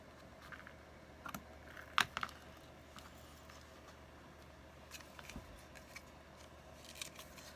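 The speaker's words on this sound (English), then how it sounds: "So I'm going to cut each side at an angle." Scissors snipping ribbon at an angle for a handmade card, a few faint, sharp clicks and cuts in a quiet room, with one brighter snip near the middle.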